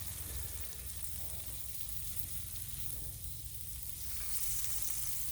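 Lobster tail and shrimp sizzle steadily on a hot griddle for an Independence Day seafood cook, a continuous close frying hiss with no talking.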